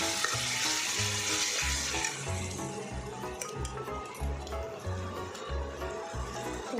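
Bhetki fish marinated in yogurt sautés in hot oil in a pan: a loud, steady sizzle and crackle with rhythmic scraping and stirring strokes throughout, close up and with no talking.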